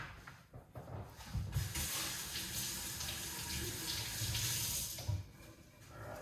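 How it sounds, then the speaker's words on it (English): Tap water runs steadily for several seconds into a drink of orange, pineapple and turmeric, a continuous close splashing stream that swells and eases slightly without any talk. "now I'm going to put some water into it"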